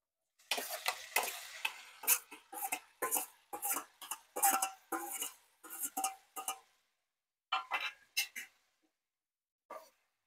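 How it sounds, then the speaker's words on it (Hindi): Bursts of sizzling and crackling as tomatoes hit hot oil for a tempering, loud and close, coming in uneven waves with short pauses. "अब इस स्टेज पे डाल दूंगी ये टमाटर"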